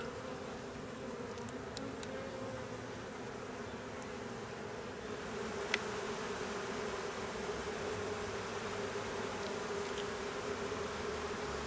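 Honeybees fan in a new hive during a one-month inspection, a continuous low buzzing drone that holds steady for the whole stretch, moderately faint and with no voices.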